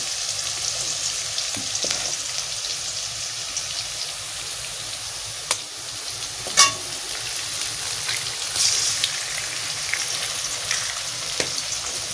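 Egg frying in a pan alongside softened potatoes while making Maggi noodles, a constant crackling sizzle with occasional spits and clinks, close and steady throughout.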